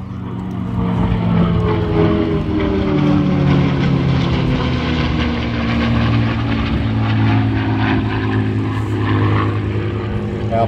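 A Pilatus PC-21 turboprop trainer flies past at an air show at Temora Aviation Museum, its loud droning propeller and engine tone sliding lower as it passes, steady throughout.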